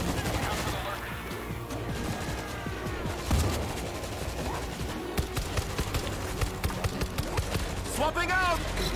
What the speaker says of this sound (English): Nice, our turret's doing his job.